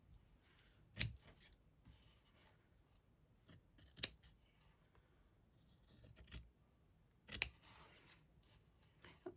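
Scissors snip through fabric scraps, a few sharp metallic clicks spaced several seconds apart, with faint rustling between them in a quiet room.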